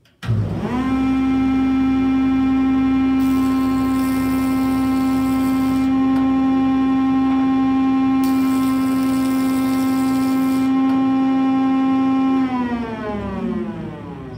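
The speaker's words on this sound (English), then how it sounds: "Now, how many times do I push it through the joiner?" A jointer runs with a loud, steady motor hum and whine as a board is pushed through, the cutterhead noise thickening in two stretches as the wood is fed, then the motor spins down at the end.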